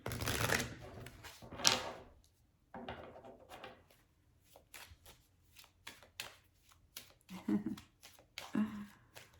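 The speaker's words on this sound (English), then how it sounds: "Let's draw an angel number card." Angel number cards being shuffled and drawn at a table, with a quick riffle and soft slaps early on, then scattered light taps and card slides, all close and quiet with a person speaking.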